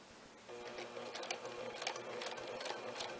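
A sewing machine stitches bias binding around the edge of a satin blouse, starting after a short pause into a close, steady, fast mechanical whirr with light rhythmic patter.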